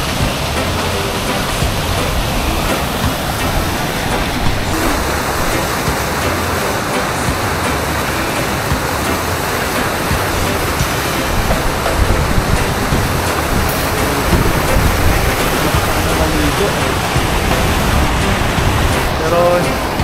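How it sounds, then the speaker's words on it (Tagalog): A river in the Philippines rushes steadily as a continuous broadband roar of flowing water, loud and close throughout with no talk. "Nakarating na ako dito sa ilog."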